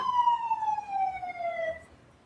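Ambulance siren heard from the street outside a house, a steady wailing tone sliding slowly downward as it passes, loud at first and fading away after about two seconds.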